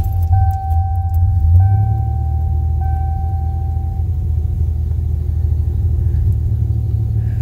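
An old junkyard National car's engine runs with a steady low rumble that stays loud and close throughout, along with a faint high whine in the first few seconds.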